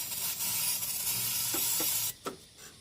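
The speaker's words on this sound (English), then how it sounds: "just lifting up the throttle and just spraying it around in there" Degreaser sprays from an aerosol can into a car's throttle body, making a steady loud hiss for about two seconds, followed by a couple of short faint bursts and clicks as it stops.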